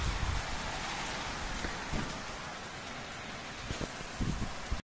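Heavy rain pours steadily outdoors as a dense, continuous hiss with scattered louder drops and spatters, with no talking.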